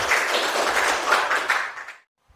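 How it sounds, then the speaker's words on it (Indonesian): A classroom of students claps together in a brief, dense burst of applause that cuts off abruptly into silence, with one faint tap after. "Oke, tepuk tangan."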